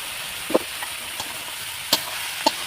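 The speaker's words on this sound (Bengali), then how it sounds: "আমি একই তেলে পেঁয়াজগুলো দিয়ে দিচ্ছি।" Salted onions frying in oil, a steady hissing sizzle broken by a few sharp pops and spatters, close and fairly loud.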